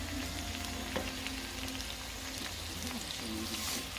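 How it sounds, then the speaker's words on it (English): Aubergine and potato pieces fry steadily in hot oil for aloo baingan, a constant close sizzle with brief scraping stirs mixed in, and no talking. "Now give it a stir."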